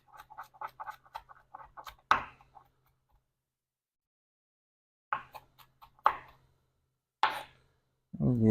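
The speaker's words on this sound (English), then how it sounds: "Let's get that knife. Cut these up." A knife chops fresh parsley and thyme on a board in a home kitchen, giving a few sharp, separate strokes with quiet gaps between them, preceded by light ticking and scraping.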